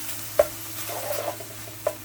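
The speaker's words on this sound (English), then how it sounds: "Just stir that up." Hamburger and butter browning in a pan, with a low, soft sizzle and a couple of distinct scraping taps from a utensil as the meat is stirred.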